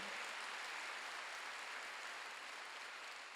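A church congregation claps together during a Sunday worship service, a steady wash of applause heard alone at moderate distance for a few seconds.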